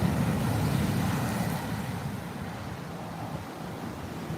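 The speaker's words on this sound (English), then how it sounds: "And look at these waves." Powerful ocean waves break and wash steadily onto a beach at sunrise, a continuous loud roar of surf with some wind buffeting the microphone.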